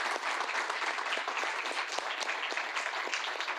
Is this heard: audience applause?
yes